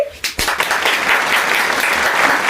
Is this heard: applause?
yes